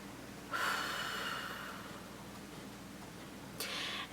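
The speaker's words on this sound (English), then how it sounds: "what I just did there was the breathing technique" A slow breathing exercise performed outdoors on a quiet beach: a soft, drawn-out breath rises and fades over about three seconds, followed later by a brief sharper inhale, all close and faint with no talking.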